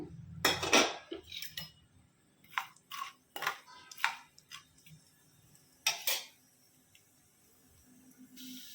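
Tempering seeds go into hot oil for a Telugu broad bean, cucumber and tomato curry, giving a few spaced metallic clinks and scrapes of a spoon against the pan, with light crackle between them and no talking.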